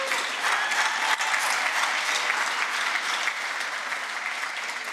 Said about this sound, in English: just a big round of applause for Ken Vincent